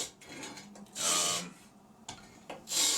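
A blade drawn across sandpaper for sharpening, a few separate dry rasping strokes, each a short scrape with pauses between, close and clear with no talk.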